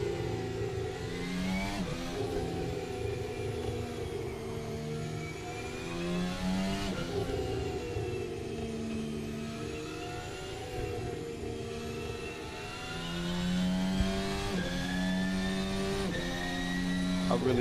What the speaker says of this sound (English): I really love this virtual racing cars Formula Alpha 2024